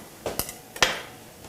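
A few light metallic clinks and scrapes of a utensil against a pan while dried thyme is stirred in, two sharper taps among softer knocks, close and clear with no talking.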